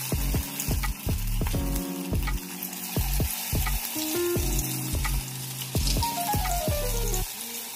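Marinated pakoras fry in hot oil over a medium flame, giving a continuous, fairly close sizzle and bubbling that runs under steady background music.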